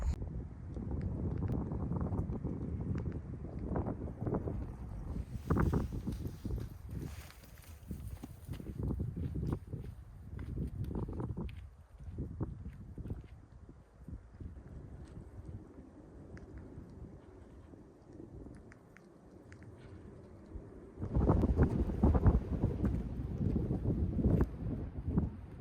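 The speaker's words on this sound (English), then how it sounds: "Okay, it's just so windy up here." Strong mountain wind in the Uinta Mountains in October roars and buffets continuously, with heavy gusts swelling and fading, loudest near the end.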